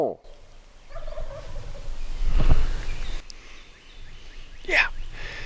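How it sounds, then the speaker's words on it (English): Outdoors, a wild turkey gobbles from a distance, a faint rolling call heard over quiet whispered talk and wind noise, followed later by a brief higher bird call. "I'm gonna try to get him to gobble on our tape here."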